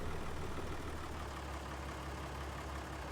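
A tractor engine idles steadily in a farming video game, a low, even rumble holding constant and fairly close throughout with no voices.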